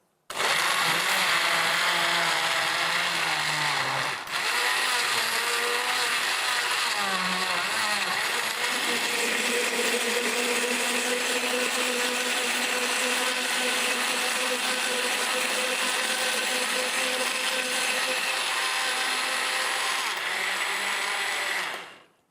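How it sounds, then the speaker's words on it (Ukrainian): A kitchen blender runs continuously while a warming apple charlotte tea drink is made, a loud steady whir with a brief dip near four seconds, then constant until it cuts off at the end. "зараз ми вмикаємо блендер"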